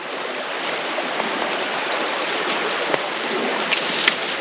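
A woodland creek flows steadily nearby, producing a continuous broad rushing wash with a few faint splashes and no voices.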